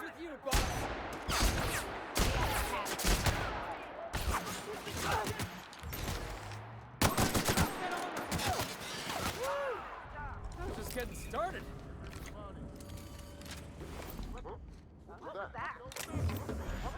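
Sniper rifle gunshots in the video game The Outer Worlds, several loud sharp cracks with reverberant tails amid game effects, while someone talks throughout.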